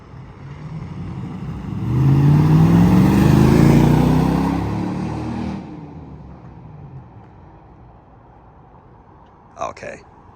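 A Lexus GX 470 SUV fitted with a new overland exhaust gives a deep engine rev that swells loudly, then settles back to a lower rumble, with a short faint sound near the end.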